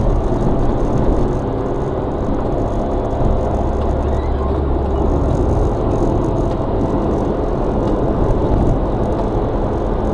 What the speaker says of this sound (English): This is my 1993 Suzuki Carry 4-wheel drive.